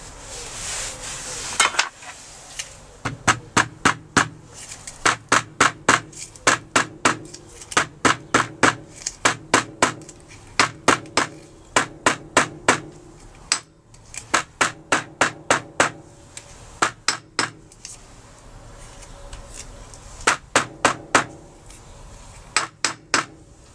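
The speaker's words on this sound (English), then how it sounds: "Might need a small tap with a hammer." Sharp metallic hammer taps seating a bearing into place on a Mk3 Ford Cortina Estate, struck close by in quick rhythmic bursts of several blows with short pauses between, continuing throughout.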